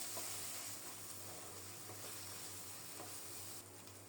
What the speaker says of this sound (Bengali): নেড়ে চেড়ে মশলাটাকে একটু কষিয়ে নেব।